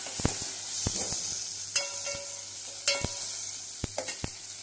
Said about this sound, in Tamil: இப்போ தக்காளியை கையிலே கொஞ்சமாக பெருந்தி விட்டுணும். அதையும் கொஞ்சம் வதக்கணும்.